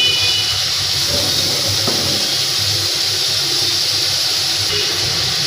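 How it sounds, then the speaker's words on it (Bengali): Water poured into sizzling spices in a pan sets off a loud, broad steamy hiss that holds steady throughout, close to the pan, with faint clatter underneath. "একটু জল দেবো মশলাটা কষানোর জন্য"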